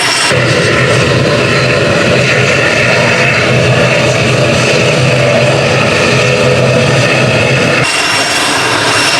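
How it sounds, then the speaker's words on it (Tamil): Airplane arriving at Jaffna International Airport in Sri Lanka, a loud, continuous broadband engine roar held steady for most of the stretch before cutting down sharply near the end, with no voices over it. "இப்போது இலங்கை யாழ்ப்பாண சர்வதேச விமான நிலையத்துக்கு அவர்கள் வந்து கொண்டிருக்கின்றார்கள்"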